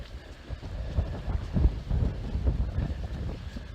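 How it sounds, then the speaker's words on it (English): Steady low rumbling wind buffeting a microphone, gusting and swelling throughout with no voices. "sorry that it's a little windy"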